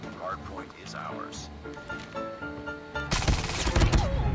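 Fennec submachine gun fire in Call of Duty Mobile, a loud rapid burst of automatic shots erupting near the end, with music and a voice talking before it.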